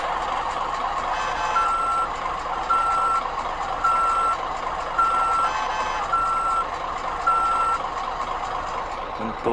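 Steady electronic reversing beeps of a Hino truck in the bus simulator game BUSSID repeat at an even pace over a constant truck engine rumble, loud and close.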